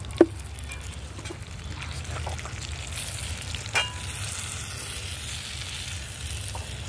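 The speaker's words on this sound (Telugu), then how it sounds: "వేగుతుంది" Eggplant (vankaya) fries in a pan in a village kitchen, giving a steady close sizzle throughout, broken by a couple of sharp utensil knocks and faint scraping.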